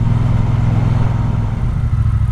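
A Triumph Speedmaster motorcycle engine runs with a steady, loud, low throbbing idle, close to the microphone and without talk.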